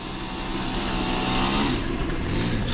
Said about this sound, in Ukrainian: Я вперше на мотіку тут і в принципі ще й на роторі ну, їду, прям так піднімаюсь по сходинках